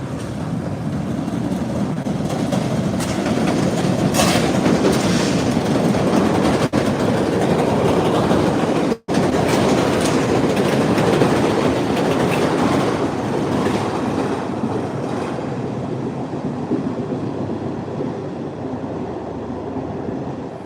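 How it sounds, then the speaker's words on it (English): An MBTA Orange Line train rolls through Forest Hills station, a loud continuous rumble of wheels and cars passing close by for the whole stretch, with faint clickety-clack and brief high wheel squeal. "There goes the Orange Line train."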